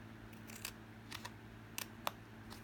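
Quiet snips of scissors cutting up the centre of a paper banner, several short crisp cuts in small irregular clusters, close but faint, with no talk.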